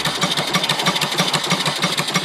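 A small off-grid steam engine runs on steam from its boiler, giving a steady, rapid rhythmic chuffing with a low pulsing beat and a hissing wash on top, close and continuous.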